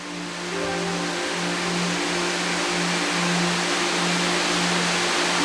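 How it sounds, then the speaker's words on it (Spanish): Shiraito Falls pouring steadily down a cliff face as a broad, constant rush of falling water, loud and unbroken throughout with a faint low hum beneath. "El agua baja a borbotones incesantemente desde el precipicio."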